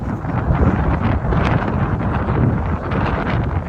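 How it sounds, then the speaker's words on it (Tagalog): Strong, steady wind at a seaside beach roars against the microphone with continuous buffeting gusts, loud and close throughout with no pauses, as leaves are blown about. "Maingay ito ang hangin."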